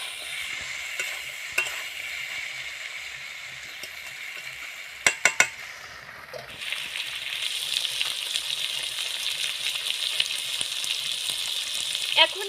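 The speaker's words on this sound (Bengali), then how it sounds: "এখন আমি ভালোভাবে নাড়াচাড়া করে নেব।" Chopped green chillies frying in a pan, stirred with a metal spatula: a steady close sizzle that grows louder partway through, with a few sharp spatula clinks against the pan.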